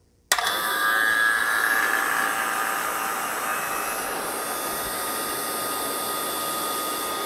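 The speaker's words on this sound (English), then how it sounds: "So we're going to turn our vacuum pump on now." A vacuum pump connected to a mini split refrigerant system starts suddenly and keeps running as a loud, steady, high-pitched whine and roar, close and continuous with no talking.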